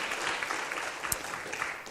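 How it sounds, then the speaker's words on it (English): An audience at a UNESCO panel on big data and cultural creation gives the panelists a round of applause, a continuous, moderately loud wash of clapping with a few sharper claps standing out. "I want you to give them a big applause"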